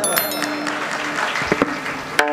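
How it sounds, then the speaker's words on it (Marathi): Crowd at a kirtan claps for the cymbal players, even applause running throughout with a few bright ringing cymbal clangs cutting through near the end. "एकदा टाळकऱ्यासाठी टाळ्या वाजवा."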